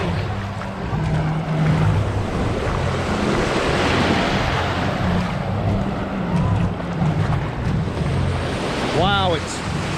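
Ocean waves wash steadily onto Clearwater Beach under gusty wind rumble, a continuous loud surf wash with a brief chirp near the end.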